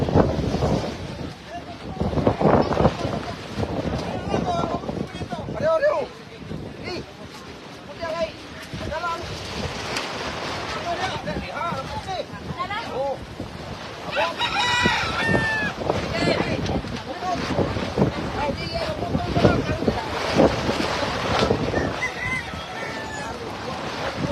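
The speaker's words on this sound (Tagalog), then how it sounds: "Kusog kayong hangin dyan." Strong wind in Oroquieta City buffets the microphone in loud roaring gusts, with faint voices and water sounds mixed underneath.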